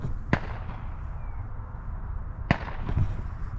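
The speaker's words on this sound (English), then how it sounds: "You can hear the guy shooting his gun behind me." Gunfire from someone shooting in the distance: two sharp cracks about two seconds apart, heard faintly over steady outdoor background noise, with a softer pop following the second.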